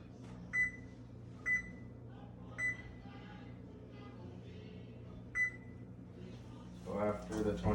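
Oven timer being set, four or five short, crisp electronic beeps spaced irregularly over a low kitchen hum, followed by a louder clatter at the end.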